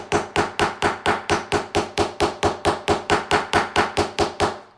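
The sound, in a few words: hammer hitting metal on a block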